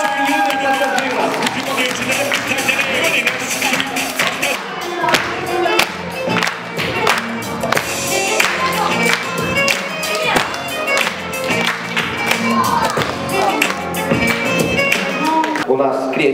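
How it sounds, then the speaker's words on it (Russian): Audience applause and cheering at a welcome event in a family camp, a steady dense clatter of clapping with lively crowd noise and rhythmic claps throughout, voices mixed in. "Аплодисменты, бурные аплодисменты нашим самым юным пассажирам."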